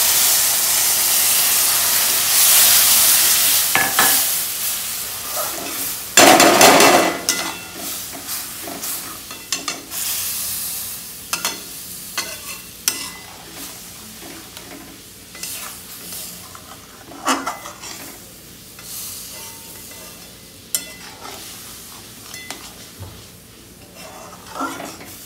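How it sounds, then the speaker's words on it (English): Almond halwa cooking in a pan hisses and bubbles loudly as milk is added, then settles into repeated scraping and clattering strokes of a spoon stirring it, with sizzling underneath. "Keep on stirring it till it dries up."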